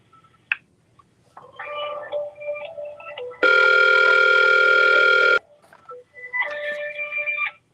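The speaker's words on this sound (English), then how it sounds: "I hear your phone or somebody's phone in the background." A phone rings in the background of a live-streamed radio show: one loud, steady electronic ring lasting about two seconds, with brief murmured voices before and after it.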